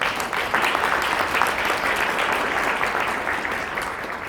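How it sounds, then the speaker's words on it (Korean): Steady applause from a crowd at a 70th anniversary ceremony of the Korea Child Welfare Association, dense clapping sustained at an even level throughout with no voices on top. "박수 한번 보내드릴까요?"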